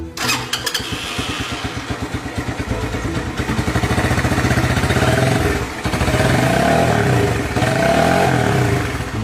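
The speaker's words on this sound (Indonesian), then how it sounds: "saya ingin mencoba motor ini" Motorcycle engine starts with a brief rattle, then runs at a steady idle before being revved louder in two rising surges, loud and close.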